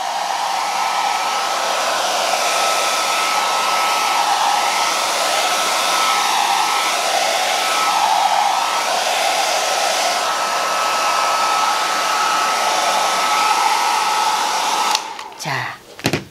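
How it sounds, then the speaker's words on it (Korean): In a recycled-art class at a disability welfare center, an ordinary household hair dryer dries a piece of artwork. It blows as a loud, steady, continuous rush for about fifteen seconds, then switches off with a short clatter of handling. "머리 말리는 드라이기로 사용하시면 되고요."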